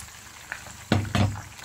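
Rabbit marinade poured into hot shea butter in a pan bursts into two loud sizzling crackles, close and brief, after a quieter moment.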